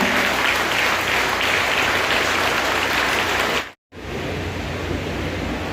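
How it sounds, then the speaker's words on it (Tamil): Engineering college students in Kanchipuram applaud themselves at an exam-success event, a dense, roaring wash of many hands that runs continuously, cuts out abruptly for a moment, then resumes. "ஒரு பலத்தை கரகோஷம் போடுங்க"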